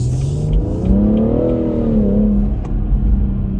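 A 2017 BMW M140i xDrive (F20) with its turbocharged straight-six revving hard, the engine note climbing and falling in loud sustained surges, close and alone.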